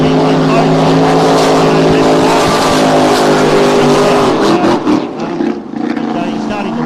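Race car engine pushed hard during practice at Adelaide, a loud sustained roar with a steady harmonic drone that wavers and dips toward the end, heard under commentators talking.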